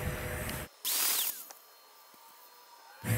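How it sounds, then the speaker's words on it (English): A power grinder works a TIG weld stop on Monel alloy in short, loud bursts, its rough grinding dropping off into quiet with a faint fading whine between passes. "here I'm only gonna grind"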